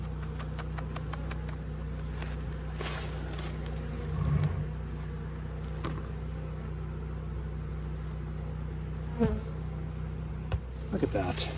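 Honeybees buzz in a varroa mite sample during a hive check, a faint continuous drone with scattered soft knocks and handling noises.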